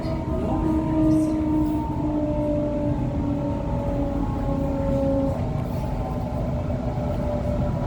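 Sydney Trains T9 A-set electric train running through bushland between Epping and Hornsby, a steady loud interior rumble with sustained tonal motor whine lines shifting in pitch throughout.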